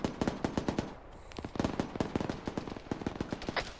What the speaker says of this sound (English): we're getting shot from the right side